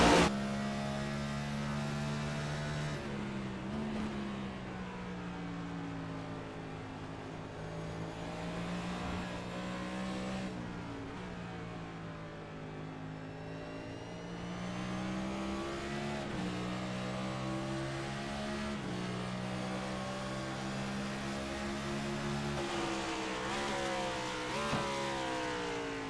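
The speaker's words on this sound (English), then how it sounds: "Hear that car wind down into turn 1 as they work up their way to turn 2 and up through the S's." A race car engine in a sim racing game at Watkins Glen revs and winds down into a turn, its engine tone sliding down and then climbing again. The sound is loud and continuous, with no talking.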